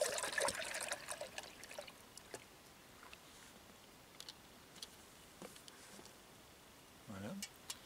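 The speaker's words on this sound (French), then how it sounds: "Je verse le lait dans la gamelle." One litre of milk is poured into a large pot, giving a brief liquid splash and trickle at the start that quickly fades to faint, sparse drips in a quiet room.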